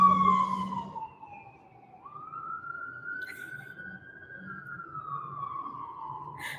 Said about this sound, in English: Oh, I hope that siren doesn't come by here.